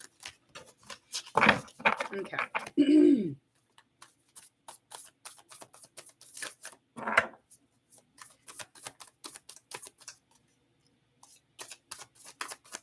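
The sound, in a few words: shuffling tarot cards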